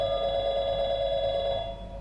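A phone call rings steadily in Portal 2, a sustained electronic tone that holds evenly for about two seconds and then eases off slightly, with no talking.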